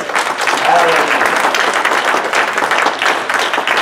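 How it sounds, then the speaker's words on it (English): A church congregation claps hands in praise, a dense sustained round of applause filling the room, loud and close, with voices calling out over it. "Give the Lord a hand clap of praise."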